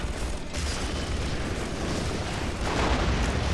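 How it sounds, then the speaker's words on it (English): Heavy bombs blast a Prospector in Command and Conquer: Red Alert 3, a dense, loud rumbling roar of explosions sustained throughout and swelling toward the end. "Bombs takes out that Prospector"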